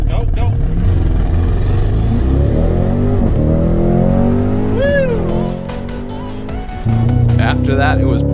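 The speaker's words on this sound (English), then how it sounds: "The new Cadillac launch control is greatly improved over the previous gen, that's for sure." A Cadillac Blackwing V-Series launching hard with launch control at Spring Mountain track, engine revving up through rising gears with a brief tire squeal, loud and close, with people talking over it.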